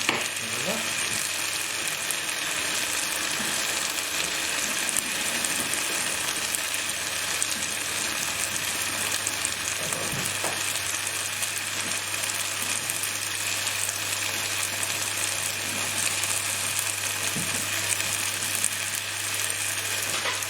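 Tomatoes and onions sizzle steadily in a karahi on an induction hob at a high setting, a loud unbroken frying hiss with occasional soft stirring scrapes and a low steady hum beneath.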